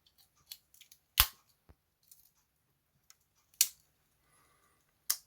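Scissors on a Victorinox Climber Lite Winter Magic pocket knife being handled, a few crisp, close metallic snips spaced seconds apart between small faint clicks and fiddling noises in an otherwise quiet room.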